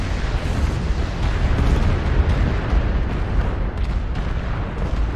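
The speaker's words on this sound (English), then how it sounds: "Oh, not the artillery." An artillery strike erupts in MechWarrior Online with modded sounds, a dense, sustained rumbling blast that roars loudly and evenly for several seconds, heavy in the low end, with no voices over it.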